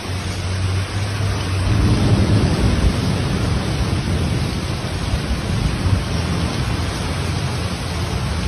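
A heavy thunderstorm in Sicily, with dense, steady rain roaring across the whole stretch and low thunder rumbling beneath it early on, loud and continuous with no voices.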